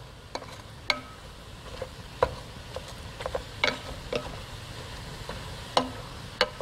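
Finely diced onion cooking in a pan for chili, a soft low sizzle broken by sharp ticks and taps of stirring, close and fairly quiet with no talk.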